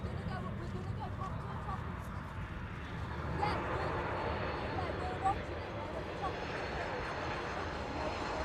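Aircraft touching down at East Midlands Airport, its engine roar steady and moderately loud across the whole stretch, swelling slightly midway as it rolls in, with a commentator's voice running over it.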